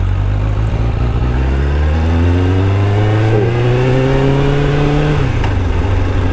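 Suzuki Katana motorcycle with a newly repaired clutch riding through a neighborhood, its engine droning loudly and steadily, pitch rising through the gears with a shift near the end, no talking.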